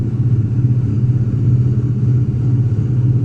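A racing video game's engine plays from a surround speaker system in a room, a steady loud low rumble holding one pitch for a few seconds with no talk.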